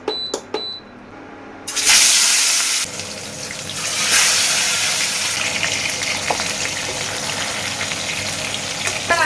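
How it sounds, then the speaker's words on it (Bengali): Fish dropped into smoking-hot oil in a wok set off a sudden loud sizzle after a few light clicks, then keep frying with a steady, crackling hiss. "ধোঁয়া উঠে গেছে, তেল কড়া দুটোই গরম হয়ে গেছে, এবার মাছগুলো দিয়ে দিচ্ছি।"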